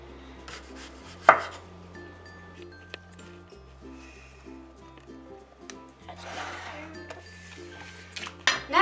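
Knife chopping zucchini on a cutting board in a home kitchen: quiet, sparse taps and a few sharp knocks, with one louder chop early and more near the end, over a low hum.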